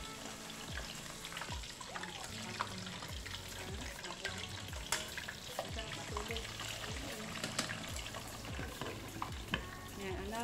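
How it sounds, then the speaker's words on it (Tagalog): Pork belly fries in a pan with a dense, continuous sizzle and crackle, punctuated by occasional sharper pops and stirring scrapes, fairly close and steady throughout with no voices. "Iprito natin siya guys na mga sandali lang guys."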